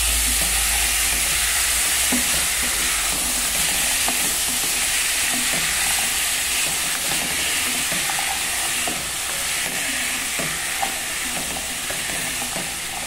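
Shredded pumpkin sizzles loudly in a hot pan while being stirred, a constant frying hiss with occasional scraping clicks from the stirring.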